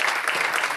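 A church congregation at a Baptist service breaks into dense, steady applause to acclaim the Lord, the clapping sustained and fairly loud throughout the brief moment with no pause.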